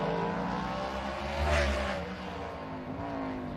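A NASCAR race car runs a qualifying lap at the LA Coliseum, a loud steady engine drone with harmonic whine swelling briefly as it passes through the corner, heard alone without talk.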